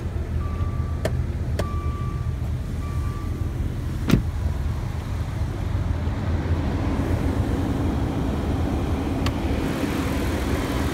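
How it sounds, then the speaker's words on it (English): A 2017 Maserati Levante's 345-horsepower V6 twin-turbo engine idles steadily under an open hood, a low constant hum with a few faint clicks, heard alone. "There it is, V6 twin turbo, 345 horsepower"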